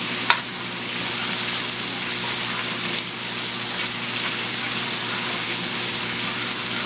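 Bacon-wrapped hotdogs fry in a cast iron pan with a steady, dense sizzle and a few sharp pops and crackles, loud and close with no talking.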